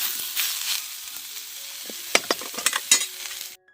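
Dry roasting of onion and coconut in a pan: steady soft sizzle with scattered scraping stir strokes and clicks, growing busier toward the end before cutting off.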